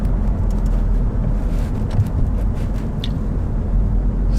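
Engine of a 2007 Alfa Romeo 159 saloon with the V6 JTS and six-speed gearbox while downshifting, a steady low rumbling drone heard from inside the car with road and wind noise.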